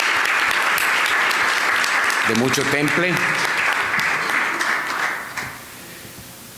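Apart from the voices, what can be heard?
audience applause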